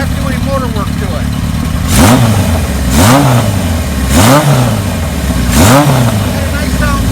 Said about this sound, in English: Bike sounds nice. Got a Kirker header on it.